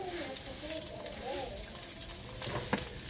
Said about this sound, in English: now that we got our sausage in this pot and it's cooking down pretty good